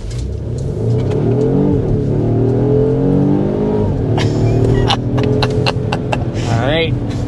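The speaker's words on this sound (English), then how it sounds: "But first, we need to start with a hard acceleration." A Volvo V60 Polestar Engineered wagon accelerating hard, its engine note climbing steadily through the revs, loud from inside the cabin, then a brief rising whine near the end.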